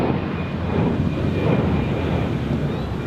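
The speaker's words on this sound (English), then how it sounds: "another Edelweiss A340 has taxied by, which is now taxiing to runway 16" An Edelweiss Airbus A340 jet taxiing at Zurich airport gives a steady, close, broadband engine roar with a faint high whine, constant in level throughout and partly buffeted by wind noise.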